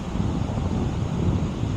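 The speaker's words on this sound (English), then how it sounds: "I got some wind coming across, which is not going to help with the slice" Steady wind blows across an open golf course hole, a constant broadband rushing roar with low buffeting gusts, loud and close to the microphone, with no voices heard.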